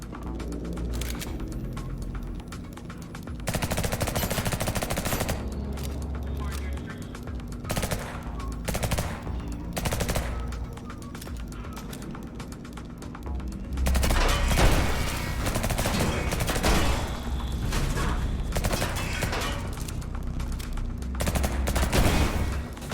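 Bursts of gunfire from shooting enemies in the video game Liberated, rapid automatic volleys that come and go in several loud stretches over a steady background with faint music.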